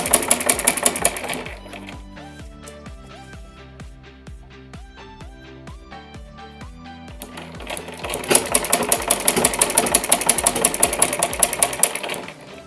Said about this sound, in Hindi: बारीक बखिया करके इस पे सिलाई लगा लेंगे